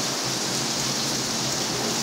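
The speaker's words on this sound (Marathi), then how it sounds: "इकडे 2 दिवस झाला असाच पाऊस पडायला आहे" Heavy monsoon rain in the Konkan countryside, a dense, steady roar of downpour on surfaces all around, loud and unbroken with no voices.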